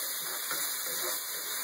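Red wine vinegar poured into a hot pan gives a steady, close hiss and sizzle that runs without a break and stays level, with no voices over it.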